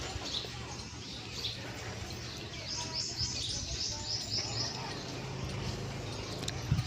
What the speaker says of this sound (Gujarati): લેબ્રાન ટોચ ઉપર બે પોપટ બેઠા